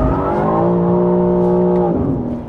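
A 2023 BMW M3 CS G80 driving under steady load, its engine holding a loud, close, droning tone that drops in pitch near the end as the throttle eases.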